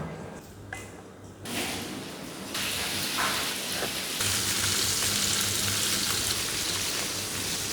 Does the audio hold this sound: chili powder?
yes